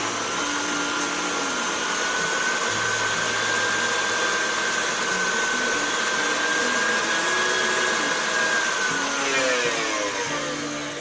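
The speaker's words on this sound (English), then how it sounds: "I'm going to mix that up with the sugar, butter, and eggs." An electric mixer whirs steadily as it beats lemon juice with sugar, butter and eggs for lemon cookie dough, a loud continuous motor hum close by whose pitch shifts slightly, with no talking.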